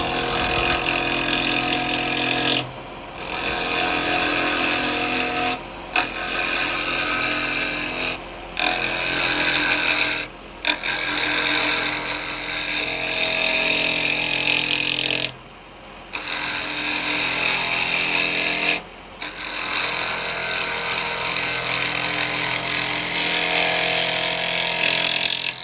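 Wood lathe spinning a rough piece of firewood while carbide tools cut into it, a loud continuous grinding roar broken by several brief pauses.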